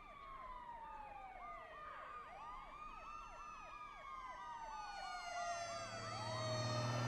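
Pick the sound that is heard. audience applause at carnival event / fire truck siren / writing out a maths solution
fire truck siren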